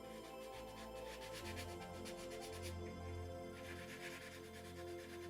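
Foam pad rubbing over a curved plastic surface during engraving work, a steady close abrasive scrubbing that continues throughout with no talk.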